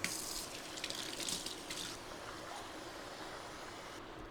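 A steady stream of cold running water pours from a tap into a bowl, a soft continuous rush that starts a bit brighter and settles into an even flow.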